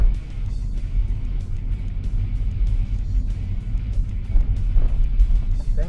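A manual car runs in third gear with an uneven, jerky engine. It gives a low, steady rumble from inside the cabin with slight surges as the throttle changes.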